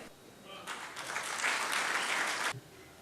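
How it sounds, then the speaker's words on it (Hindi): An audience at a comedic mushaira poetry gathering breaks into full applause that swells in, holds steady for about two seconds, then stops abruptly, heard at moderate distance in a hall. "भरपूर तालियों में इस्तकबाल कीजिए"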